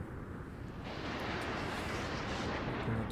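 Broad booming roar of naval cannon fire from a warship battle video game, loud and sustained across the whole moment, with no voices over it.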